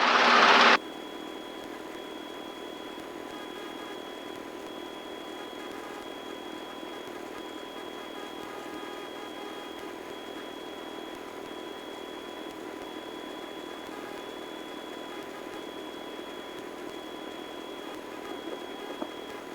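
A Robinson R22 helicopter engine drones steadily and evenly from inside the cabin while hovering and setting down, with a constant whine above the hum and a brief louder burst at the start.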